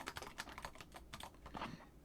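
Quick, irregular clatter of keys on a computer keyboard, a dozen or so soft clicks in rapid bursts, close and quiet with no talking.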